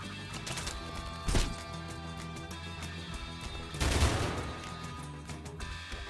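Gunfire in the video game ARCO: two short bursts of shots land over a steady game music bed, one near the start and a louder, longer volley around the middle.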